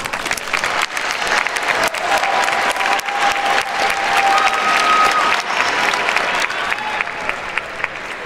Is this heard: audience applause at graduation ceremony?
yes